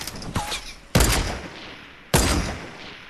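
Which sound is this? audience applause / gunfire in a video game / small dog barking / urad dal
gunfire in a video game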